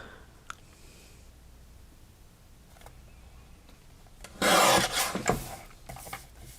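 Paper photo edges being distressed for a craft project, heard as a faint rasping and rubbing that swells into a loud scraping burst near the end, with small ticks beforehand.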